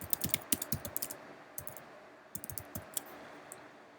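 Rapid clicking keystrokes on a computer keyboard, close and fairly quiet, coming in quick bursts with a short pause in the middle before more tapping, no voices.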